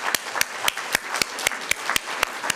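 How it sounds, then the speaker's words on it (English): Applause at a Board of Education distinguished service awards ceremony, heard as a sparse, steady run of individual sharp claps, fairly close and loud, with no talk over it. "Let's give them a round of applause."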